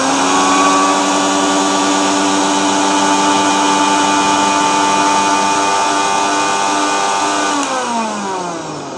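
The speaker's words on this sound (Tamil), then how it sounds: "மிக்ஸி ஓடிட்டு இருக்கும்போது இப்படி நிற்குது." A household mixer grinder motor runs loud and steady with a high whine, then abruptly cuts out near the end and spins down.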